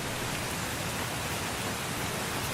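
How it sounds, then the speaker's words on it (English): Steady rain falling in windy weather near a house and trees, a dense even hiss with no breaks, fairly loud and close, with no talking. "It's starting to rain."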